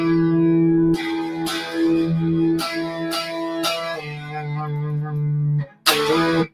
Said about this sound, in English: okay, that's a normal distortion.